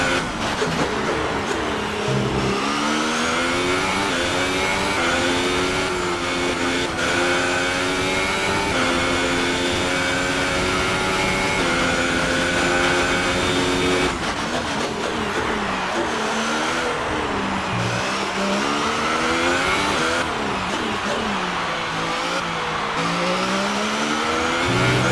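A Formula 1 car engine in F1 2018 screams loud and close on the final lap, climbing through gears in stepped rising whines with sharp downshift drops, alone without talk.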